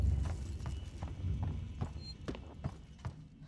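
Soft footsteps in the survival horror game Alien Isolation, a few irregular dull steps over a low rumbling ambient drone, faint and somewhat distant, with no voices.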